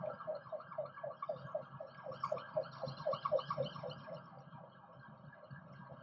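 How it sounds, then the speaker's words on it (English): An ambulance siren wails in a rapid repeating cycle on a street in Thailand, quiet at first, swelling as it passes, then fading away. "there's an ambulance, so to let that go past."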